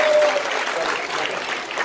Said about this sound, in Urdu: بھرپور تالیوں سے آپ داد دے دیں